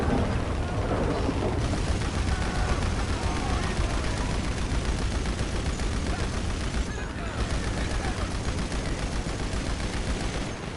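Heavy gunfire in the video game GTA Online during a boss fight pours out as a dense, unbroken roar of shots and blasts, loud and sustained for the whole stretch with only a brief dip.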